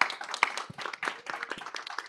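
Applause from a live audience at a tech competition awards event, a dense patter of clapping hands with irregular sharp claps standing out, fairly close and steady for the whole stretch.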